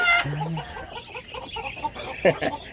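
Native chicken clucking close by, a few short throaty clucks and a sharper squawk near the end, with faint human voices in the background.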